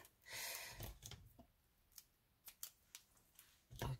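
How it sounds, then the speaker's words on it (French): Scissors snip through paper to cut a small piece for an Easter postcard, with a long cutting stroke at the start, then several short, crisp close snips and a final loud cut. "Et on découpe."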